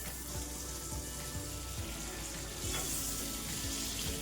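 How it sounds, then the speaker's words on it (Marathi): A veg frankie roll made with chapati and vegetables fries in butter on a pan, giving a dense, continuous sizzle with faint soft taps running through it. "आता आपण मस्त असं फ्राय करून घेऊया. तर यावरती आपण आता बटर टाकून घेतोय"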